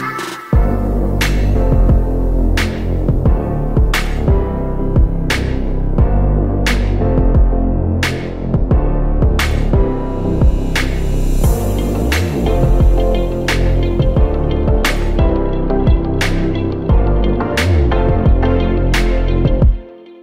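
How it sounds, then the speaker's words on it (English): A Harbor Freight Predator 3500 wheeled portable generator runs badly, its loud, close engine throbbing with sharp regular surging pulses about once a second, no voices over it. "Alright, so this is the Predator 3500 generator."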